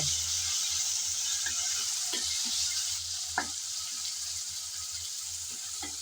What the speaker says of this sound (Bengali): আদা রসুন পেঁয়াজের সাথে ভালোভাবে নেড়ে চেড়ে একটু ভেজে নিতে হবে